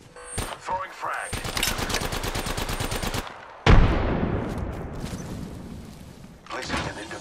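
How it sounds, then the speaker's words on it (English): Gunfire in Apex Legends: rapid automatic bursts rattle for a few seconds, then a heavy boom follows with scattered shots and a lingering tail, mixed with brief in-game voice callouts. "I'm getting shot. I'm taking fire."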